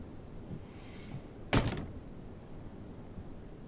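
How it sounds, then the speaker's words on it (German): In the video game Life is Strange 2, a door closes with a single short thud about halfway through, standing out against a low, steady ambient hum with no speech. "Tür schließen."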